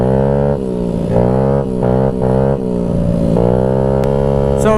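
A Honda Ruckus scooter with a GY6 171 engine revs up and down in several surges, a close, loud, buzzy engine note rising and falling in pitch.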